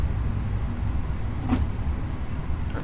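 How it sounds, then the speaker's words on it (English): Steady low cabin hum of a Fenix A321-200 airliner in Microsoft Flight Simulator 2020, parked at the gate before pushback, a continuous drone with one brief mechanical whir partway through and no talking. "They've done something to the sounds in this aircraft, because that's brilliant, the hum."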